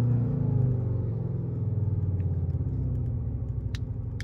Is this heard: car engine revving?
yes